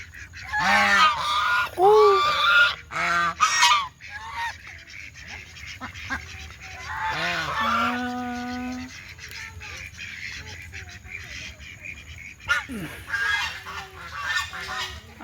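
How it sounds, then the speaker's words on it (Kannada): Fowl call out in loud, close honking bursts, several in quick succession at first and again midway, with quieter stretches in between. "ಬರ್ಲತ್ತು ಇಲ್ಲಿ ಕೋಳಿ."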